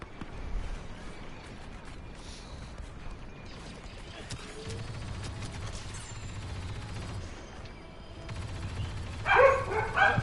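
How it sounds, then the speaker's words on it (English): Several dogs bark at a distance indoors, the sound rising in bursts toward the end over a steady background hum, with some faint voices. "Sorry, my dogs are barking."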